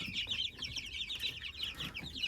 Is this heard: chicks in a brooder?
yes